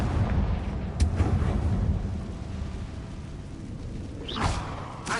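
Fiery Confringo spell blasts from Hogwarts Legacy: a sharp, crackling burst early on, a rumbling lull, then a second whooshing explosion toward the end, with no talking.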